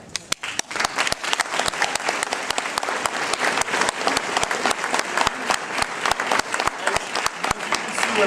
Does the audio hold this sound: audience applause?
yes